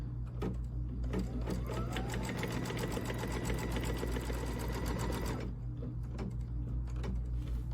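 A sewing machine runs a steady stitch line across a quilted Kimberbell Cup of Cheer project, a dense continuous whir lasting about five seconds, then stopping to quieter handling noises.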